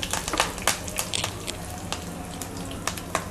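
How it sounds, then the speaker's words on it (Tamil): Mustard seeds, curry leaves and asafoetida tempering in hot sesame oil for a red chilli chutney: a continuous sizzle and fry punctuated by sharp, irregular pops and crackles of spluttering seeds, close and alone. "இப்போ கடுகு பொரிஞ்சிருச்சு."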